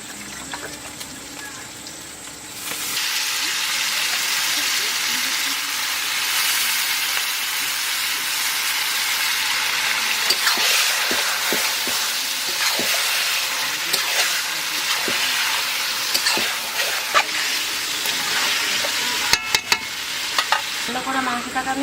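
Goat meat with turmeric and salt sizzles loudly in a pan in a village kitchen, a steady close frying hiss that starts abruptly and continues with scraping and clinking from stirring.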